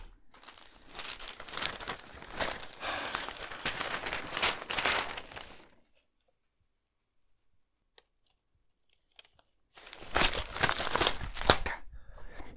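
Newspaper pages crinkle and rustle as someone reads the morning paper, with two bursts of crisp paper handling separated by a few seconds of near silence with a couple of faint clicks.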